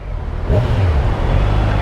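A Kawasaki Ninja 1000 inline-four engine idles nearby with a deep, steady low rumble that swells slightly, with no voices.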